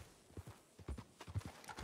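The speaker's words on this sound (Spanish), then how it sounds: "se ve que tiene un caballo muy veloz" Rapid irregular hoofbeats of a fast horse in Red Dead Redemption, a quiet clattering run of clip-clops with a faint whinny, close and steady without speech.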